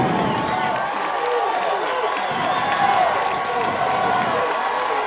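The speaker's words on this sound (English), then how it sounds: "Crowd's getting loud on this side of the field." A large crowd roars and cheers continuously at a high school football game in an open stadium, a steady dense wall of voices with no pauses.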